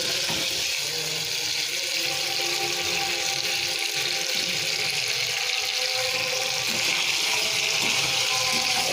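Water is poured into a pan of cauliflower being cooked with spices, making a steady, close rushing and splashing sound that holds evenly throughout without pauses.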